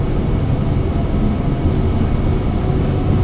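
Aircraft engines drone at full takeoff power in Microsoft Flight Simulator 2024, a loud, steady, unbroken roar with no talk over it.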